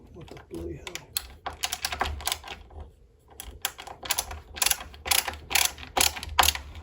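A bolt is turned into the binding inserts of a 2023 Nitro Beast snowboard, giving rapid ratcheting clicks in close bursts with a brief pause midway, while someone talks over part of it.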